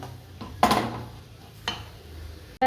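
A utensil scrapes and knocks against a pan while potato is mixed into masala for chicken cutlets, two distinct clanking strokes about a second apart over a quiet background.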